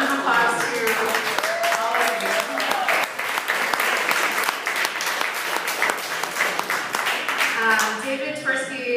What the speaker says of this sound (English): So a round of applause to